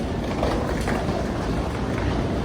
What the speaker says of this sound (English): But y'all, this train is nice.